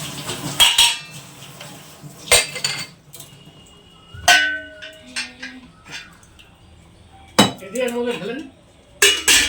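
Steel dishes and cutlery clink and clang in a home kitchen as drinking water is served. Sharp metallic knocks come in scattered bursts with quiet gaps between them, and voices talk in the background.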